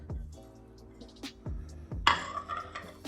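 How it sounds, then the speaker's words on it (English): Boiled potatoes are mixed with chilies, coriander and onions in a bowl for aloo tiki patties, producing soft wet squishes and low thumps followed by a bright clink of a utensil against the bowl, close and alone. "we're going to give it a good mix"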